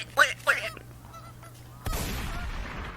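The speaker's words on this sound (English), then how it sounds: "Welcome back to another duck sound ASMR." Two loud, honking duck calls come early, then a sharp gunshot-like crack and noisy rustling outdoors during hunting season, with no clear speech.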